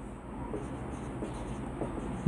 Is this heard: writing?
yes